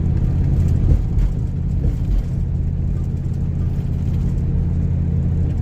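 A vehicle engine is geared down to third on a scenic fall drive along Georgia Highway 52 near Ellijay. A loud, steady low rumble and road noise continue throughout, with a slight swell early on.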